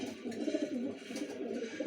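Pigeons coo softly and close by, a low rolling warble repeating in short phrases.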